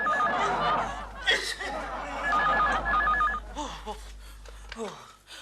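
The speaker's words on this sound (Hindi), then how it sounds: "घंटी टेलीफोन ने बजाई है" A telephone bell rings in repeated short trilling bursts inside a home, sounding over talk and laughter from several people.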